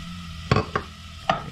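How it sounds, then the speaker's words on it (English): Onions and garlic go into melted butter in a pan, with a few distinct stirring clatters and a low sizzle beneath them. "And we're going to go right in with our onions and garlic."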